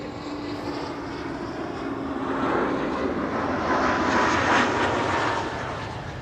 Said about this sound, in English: This is KLM flight 1352, arriving from Prague.